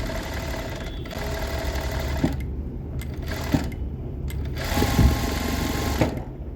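Sewing machine stitching a blouse seam, running loud and close with a steady mechanical whir and fast rhythmic needle clatter, pausing briefly a few times and then resuming, with no voices.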